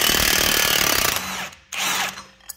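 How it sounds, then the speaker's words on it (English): A Milwaukee 1400 pound cordless impact gun hammers loudly on a 2014 Toyota Venza wheel during a bearing replacement, one long rattling burst that winds down, then a second shorter burst and a brief final tap, close up with no voices. "I'm using a Milwaukee 1400 pound torque gun."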